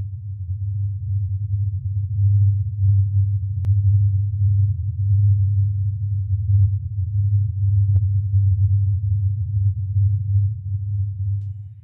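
The Taos Hum, a mysterious low humming sound, comes through as a steady, deep drone that holds unbroken at even loudness for about twelve seconds, with no other sounds over it.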